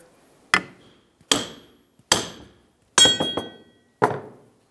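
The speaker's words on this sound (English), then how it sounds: "we'll continue on with our hammer. We're going to give this a couple loving bonks" A hammer strikes a front strut assembly of a 2002-2009 Chevrolet Trailblazer five times at roughly even intervals, each a sharp ringing clank that decays quickly, close and loud.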